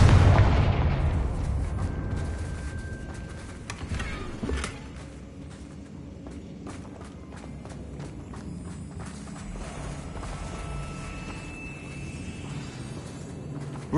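A Confringo fire-spell explosion in Hogwarts Legacy: a loud booming blast at the start that rumbles and fades out, followed by softer scattered impacts and footsteps.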